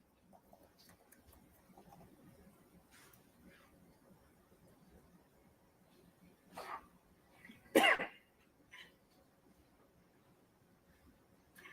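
In a courtroom during an evidentiary hearing, a person gives a couple of sharp coughs, one softer then a louder one, standing out against a quiet room.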